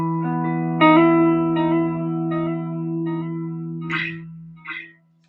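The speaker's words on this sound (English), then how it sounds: "I'm playing with these really long quarter note dotted delays" Sustained, echoing electronic music notes passed through long dotted quarter-note delays and cavernous reverb, with tones repeating and trailing away, plus a couple of brief brighter bursts before fading to silence.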